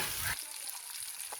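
Hilsa fish dropped into a hot pan of oil, a burst of loud hissing at the start that settles into a steady close sizzle with faint crackles, no talk.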